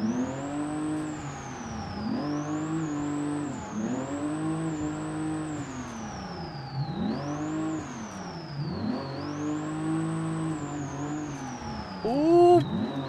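A drift car in the BeamNG driving game revs continuously, its engine pitch rising and falling in repeated sweeps as it slides through corners, with a brief tire-squeal burst near the end; no one speaks over it.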